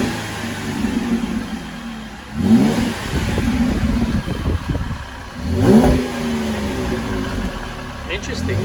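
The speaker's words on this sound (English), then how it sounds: "So we're going to give you a quick rev to see what it sounds like." A car engine is revved twice in quick bursts, each rising and falling over a steady idle, close by and fairly loud, with some clatter in between.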